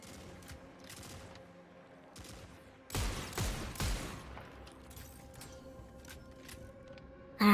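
Gunfire from a hand cannon and a rifle in the video game Destiny 2, with a scattering of sharp shots over game ambience, then a louder dense burst of fire in the middle, and no talking.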